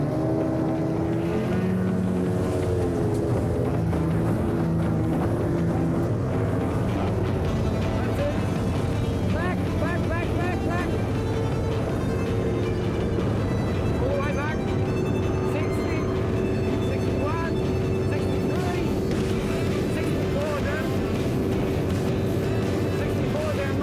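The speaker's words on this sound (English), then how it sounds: "The motor was absolutely singing." Outboard motor on a dinghy running flat out at high speed, a steady loud droning engine note with rising pitch that holds throughout, with voices talking over the roar.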